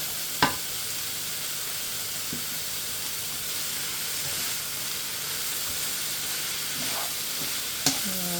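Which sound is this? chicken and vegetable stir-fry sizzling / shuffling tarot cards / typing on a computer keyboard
chicken and vegetable stir-fry sizzling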